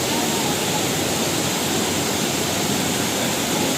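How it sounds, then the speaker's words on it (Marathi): Savatkada waterfall in Rajapur, Konkan, roars in full force, a loud, dense, unbroken wash of rushing water heard close and alone throughout. "गर्जन ऐकू शकता तेवढं पाणी फोर्समध्ये आहे"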